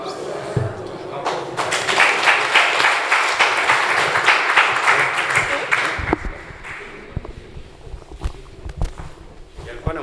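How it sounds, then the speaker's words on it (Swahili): An audience at a formal gathering breaks into hearty applause for a few seconds that then thins out into scattered claps, thumps and murmuring voices. "Yalikuwa na mstahiki makofi kwa sababu aliyotuzungumzia ni mazuri zaidi."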